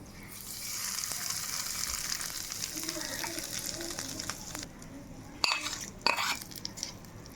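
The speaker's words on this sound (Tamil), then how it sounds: "இதில் ஒரு கால் ஸ்பூன் அளவு பெருங்காய பொடி இந்த எண்ணெயிலே நல்லா பொரியும்" Quarter spoon of asafoetida powder fries in hot oil in a kitchen, a steady close sizzle that fades near the end before a couple of sharp clanks of a utensil against a pan.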